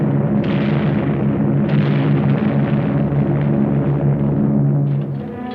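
Archival World War II recording from the Burma campaign: a continuous low, rumbling roar of bombing explosions with swelling booms, heavy and sustained throughout before thinning slightly at the end.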